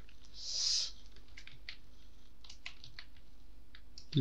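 Soft, scattered taps of typing on a computer keyboard, quiet and close, in short irregular bursts with a brief hiss near the start.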